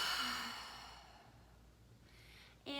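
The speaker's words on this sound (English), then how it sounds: "And exhale." A slow meditative exhale of breath, soft and close, fading out gradually over a couple of seconds before a brief sharp sound at the end; no speech.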